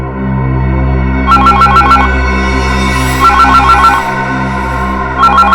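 A telephone rings loudly and close in a crime drama scene, sounding repeated electronic trilling bursts about every two seconds over a steady droning music bed, with no voices.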